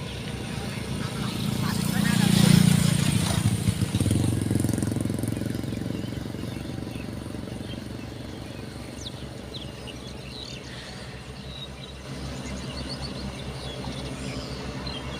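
A tractor plowing a rice field rumbles steadily in the distance across open ground, with birds chirping faintly over the low mechanical drone throughout.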